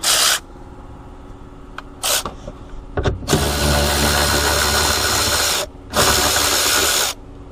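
A ratchet loosening the bolts that hold the quarter glass on a Mercedes GL450, with loud bursts of rapid clicking separated by quieter pauses and a few small knocks, heard close up with no talking.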